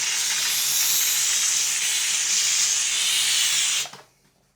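A TVD steam cleaner blasts a toilet bowl with a loud, steady hiss of steam for about four seconds before cutting off abruptly into near silence.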